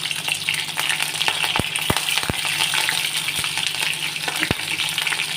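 Green chillies hit hot oil in a pan and fry with a steady, loud sizzle, dotted with a few crackling pops.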